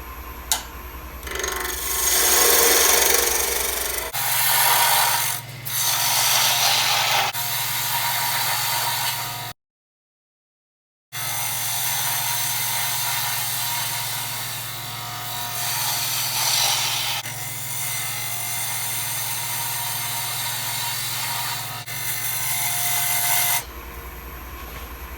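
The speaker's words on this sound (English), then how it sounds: "got the lathe running up at about 1500 RPM" Wood lathe spinning a slightly unbalanced spalted wood goblet blank at about 1500 RPM, a steady low hum under loud scraping and rasping bursts as a tool cuts, with one brief silent gap midway.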